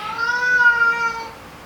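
A cat gives a single loud, drawn-out meow close by, rising and then fading over about a second and a half.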